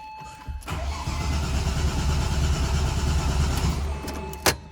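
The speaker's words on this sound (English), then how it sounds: "So let's just let it crank a little bit." A Porsche 996 GT3 engine cranks over on the starter with its fuel pump fuse pulled, a loud, steady mechanical churning that runs for about three seconds, then cuts off with a sharp click.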